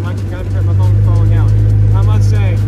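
A 2022 Vanderhall Venice drones steadily and loudly through its engine and exhaust while driving, a constant low hum filling the clip as someone talks over it throughout.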